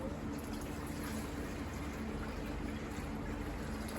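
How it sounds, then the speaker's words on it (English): Water pours steadily onto a repaired crack in a plastic tank, a continuous splashing trickle held at an even level from start to finish with no pauses. "I'm gonna pour directly on the spot."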